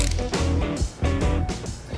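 Chain tool pressing rivet pins through motorcycle chain links during an EK 3D chain install, giving repeated close mechanical ratcheting and creaking strokes with short pauses between presses.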